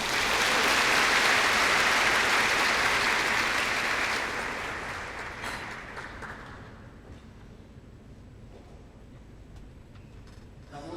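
A concert audience claps in dense, loud applause that holds for a few seconds and then fades to a scattered patter.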